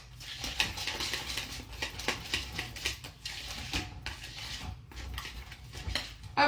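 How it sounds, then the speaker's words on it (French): Brownie batter whisked in a bowl, giving steady scraping, clinking strokes in a quick continuous rhythm at close range, with no voices. "On fouette, on fouette, on fouette, on fouette."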